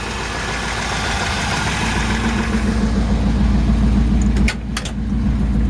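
Engine of a 1958 Chevy Apache pickup truck idling with a mellow, steady low rumble, heard close and loud for several seconds, briefly dipping near the end.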